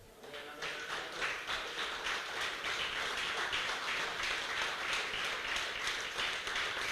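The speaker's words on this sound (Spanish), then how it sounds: "Si yo fuera usted, le doy un aplauso a Dios" A church congregation applauds God, a steady wash of many hands clapping at a moderate distance, sustained evenly throughout with no talk over it.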